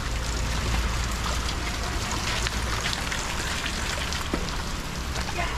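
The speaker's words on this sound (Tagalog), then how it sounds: "Ganyan dito guys pag umuulan." Steady rain falls on the ground outside, a dense, even hiss of drops and trickling water that holds at moderate loudness throughout with no voices.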